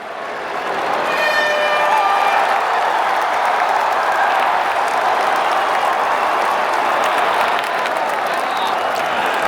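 An arena crowd at a UFC event roars and applauds at the end of a round, a broad sustained wall of cheering and clapping that swells in and stays loud to the end.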